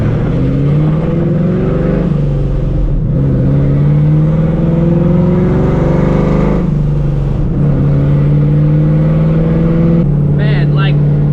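A loud 500 hp Procharged 4.6 2V Mustang GT drones and climbs through several upshifts from inside the cabin, its engine tone rising and falling in steps, ending with a brief supercharger-like whistle; a voice talks over it.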